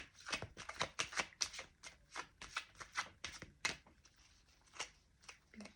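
A deck of playing cards being shuffled at close range, with quick rapid riffles and flutters in bursts over several seconds, soft and alone with no voices.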